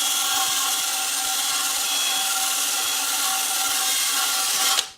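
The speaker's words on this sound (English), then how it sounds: "I've picked this up, attached it to a battery drill. It's just a wire brush" A steady, harsh whirring scrape of a wire brush spun by a battery drill against a vehicle frame, stripping it, continuous and close, cutting off abruptly at the end.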